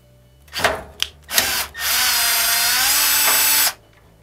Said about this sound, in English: We're going to remove two Phillips head screws.